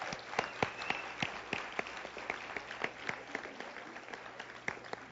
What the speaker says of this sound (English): Let's give all the finalists a round of applause